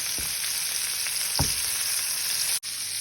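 Fish frying in a pan with onion going in after it is flipped, making a steady loud sizzle with a couple of soft knocks from the turner and a brief cut near the end, with no talking.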